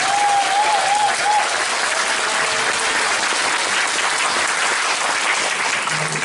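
A crowd at a political talk concert on welfare, held in the National Assembly members' hall, applauds in dense, continuous clapping that stays loud and even throughout.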